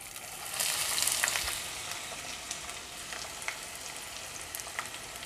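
Finely chopped onion drops into hot oil seasoned with bay leaf, cardamom and cinnamon for chicken kheema, and a soft, steady sizzle with occasional light pops and crackles follows.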